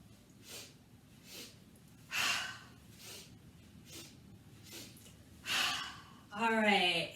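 Breath of Joy yoga breathing in a youth class: a run of quick, staggered nasal inhales at close range, building to louder pulls and ending in a long, voiced exhale.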